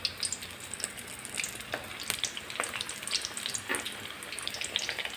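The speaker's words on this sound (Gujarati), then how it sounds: "આપણે જે આ મરચાં બનાવીને રાખ્યા છે ને એ આપણે તેલની અંદર ધીમેકથી એડ કરી દઈશું" Spicy green chilli bhajiya fritters crackle and sizzle in hot frying oil, a dense continuous bubbling hiss with frequent sharp pops, close and alone without talk.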